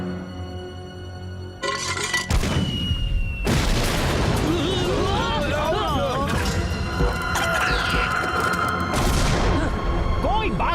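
Cartoon battle in the kids' animated series Slugterra: loud booms, crashes and rapid bursts of gunfire pile on each other, with whooshing and chirping effects weaving through a dense, continuous barrage.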